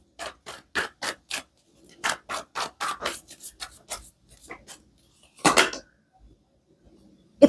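A deck of cards being shuffled, with a row of crisp, rapid riffling bursts in quick succession, a pause, then another louder ruffle, close and clear with no talking.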